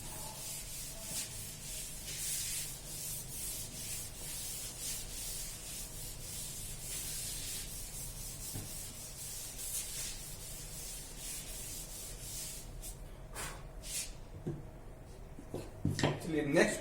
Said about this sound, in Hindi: इसको मैं रब कर रहा हूं।